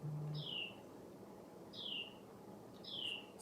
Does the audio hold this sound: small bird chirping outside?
yes